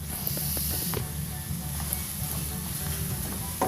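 Hot tempeh soup spices sizzle and hiss in a pan as water is poured in, a steady frying crackle with a brief louder burst near the start, close up and without talk.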